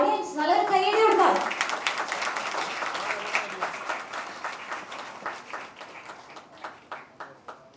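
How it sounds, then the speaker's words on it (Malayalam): An audience at a film event for Devadhoothan breaks into a loud burst of clapping with voices over the start, then the applause thins and fades into scattered individual claps. "ഓഡിയൻസ് നല്ലൊരു കൈയടി കൊടുക്കാം."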